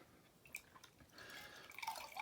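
A flannel dipped in clean water drips in a quiet room, a few soft close drops and trickles that grow into a brief run of splashing water near the end.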